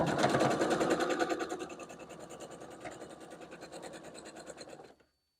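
Sewing machine stitching an Ohio Star quilt block, the fabric hand-held without pins; a loud steady motor whir with rapid needle clatter that eases slightly after the first second and runs on until an abrupt stop.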